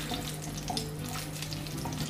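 Butter heats in a pan with a steady, close sizzle and fine crackle, no voices, as the base for paneer butter masala.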